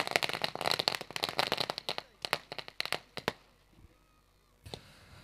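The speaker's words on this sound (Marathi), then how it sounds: "जरूर आपण फटाक्याची आतिषबाजी या ठिकाणी चालू आहे" Firecrackers burst in a rapid crackling string during a festive night display at a Neral cricket tournament final, dense at first then thinning to scattered pops, with brief voices in the background.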